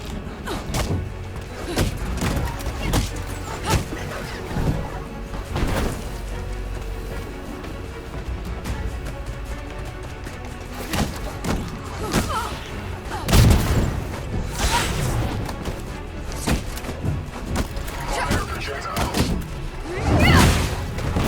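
Grenades go off during a Marvel's Avengers fight, with several deep booms and thuds landing among dense combat noise and scattered impacts, and the loudest blasts come late.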